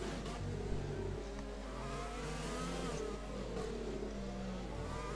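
Race car engines whine steadily in the F1 2020 video game at the French Grand Prix, with several cars revving and shifting pitch over a constant drone, heard fairly quietly behind a commentator's voice.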